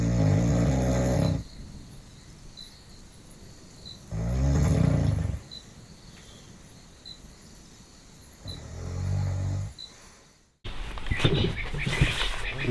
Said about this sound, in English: apparently I snore quite loudly